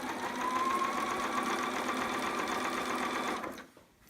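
Sewing machine stitching elastic down a seam of a child's romper, a fast, even mechanical whir running steadily at close range for over three seconds before slowing and stopping.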